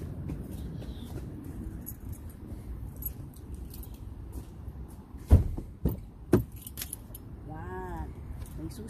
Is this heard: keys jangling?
yes